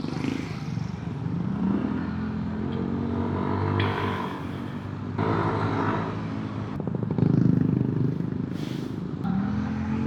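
A motorcycle on a mountain road in Ambaguio, Nueva Vizcaya gives a close, continuous engine rumble with repeated revving surges and clattering bursts, while a rider speaks now and then.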